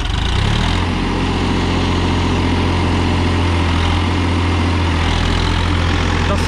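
A Massey Ferguson 245 DI 50 HP 2019 tractor engine runs loud and close, revved with the hand throttle, its steady diesel rumble holding a constant revved pitch with no voices.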